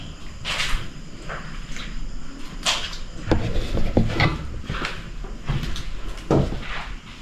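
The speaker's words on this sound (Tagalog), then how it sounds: "may kumakatok dito" Several irregular knocks thud against a door inside a pink house, spaced unevenly over a constant background hiss, with no voices.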